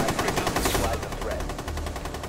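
Rapid automatic gunfire in the video game Rainbow Six Siege, a dense, loud, close stream of shots firing continuously without pause.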